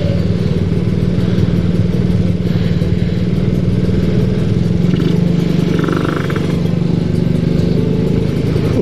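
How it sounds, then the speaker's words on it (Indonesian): A Kawasaki Ninja motorcycle rides along a road at the Bandung Barat border with a steady, loud engine drone that holds an even pitch from start to end, with no voices. "Untunglah gue pakai motor Ninja"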